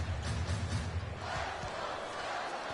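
A basketball arena crowd in the NBA Live 19 video game boos and murmurs, a low sustained crowd roar, moderately loud, with no voices over it.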